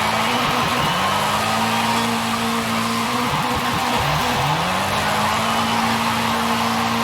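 Forza Horizon 5 drift car engine held at a steady high drone, with revs dipping and climbing as the clutch is kicked twice, a continuous loud whine and tire hiss throughout.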